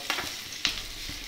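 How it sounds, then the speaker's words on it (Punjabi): A short burst of tadka sizzling in a pan for Maggi noodles, gentle frying hiss with a couple of sharp stirring clicks, quiet and close. "ਚੜ ਰਹੀ ਹੈ ਤੜਕਾ ਤੜਕਾ"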